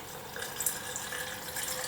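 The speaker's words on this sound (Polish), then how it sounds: "Zalewamy to wszystko wodą ciepłą, przygotowaną, ale nie gorącą." Steady broadband rush of warm water pouring into a jar, continuous and moderately close, with no voices.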